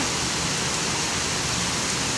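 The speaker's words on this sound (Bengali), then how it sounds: "জুম বৃষ্টি হচ্ছে" Heavy rain roaring steadily, a thick, unbroken wash of falling water close by.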